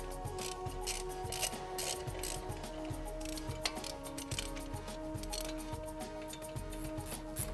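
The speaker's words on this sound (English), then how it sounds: "Remove the 2 lower mounting bolts." A hand ratchet clicks rapidly and steadily while loosening the lower mounting bolts of a front Autoride shock on a 2007–2014 full-size GM SUV, close-up and fairly quiet, with no talking.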